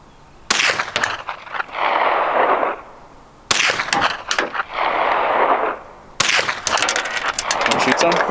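A Remington gun fires three separate shots a few seconds apart, each a sharp close crack followed by a long decaying rumble of echo.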